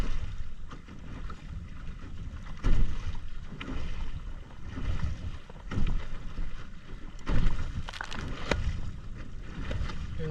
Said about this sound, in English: Hear that snapping? That's the sail snapping, because we're right on the edge of having it turned correctly.